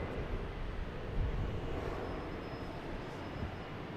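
A JetBlue Airbus A321 arriving from LAX lands at Boston Logan Airport at night, a steady distant engine rumble and rush with a slight swell, fairly quiet and without speech.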